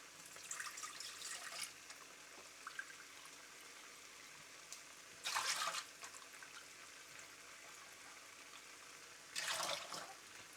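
Three cups of water pour into a pot of Kerala-style prawn biryani in two short bursts, a splashing gush around the middle and another near the end, with quiet trickles and faint clinks between.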